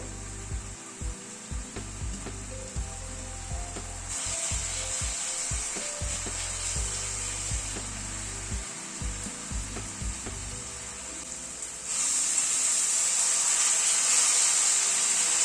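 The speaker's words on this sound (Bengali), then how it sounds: "টমেটোটা একটু কষিয়ে নেব।" Broken-up tomatoes sautéing in a pan for spinach dal give a steady soft sizzle, punctuated by intermittent low knocks of stirring, with the hiss swelling brighter and louder near the end.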